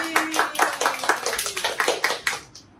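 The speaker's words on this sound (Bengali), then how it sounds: "হাততালি" Several people clap their hands at a child's birthday gift opening, a quick run of about a dozen sharp, close claps that fades out at the end.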